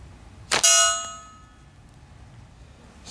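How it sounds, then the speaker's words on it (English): A rifle shot rings a steel target with a sharp metallic clang, its bright ringing tone decaying over about a second, with a faint second tick after, outdoors. "Sweet sound of flapping steel"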